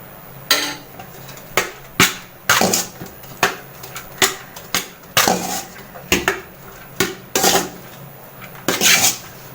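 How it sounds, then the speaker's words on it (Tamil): A spoon scrapes and clanks against a pot while rice is stirred together with tamarind puliyodharai paste, giving a steady series of close, sharp metallic knocks about twice a second with no talking. "ஊற்றி நல்லா கிண்டிக்கோங்க."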